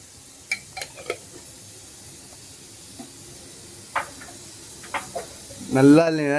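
Mustard and cumin seeds in hot oil for a garlic pepper kuzhambu, giving scattered sharp pops and crackles at irregular intervals over a low hiss, with a voice speaking briefly near the end.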